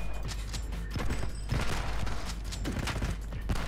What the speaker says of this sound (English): Pretty good shotgun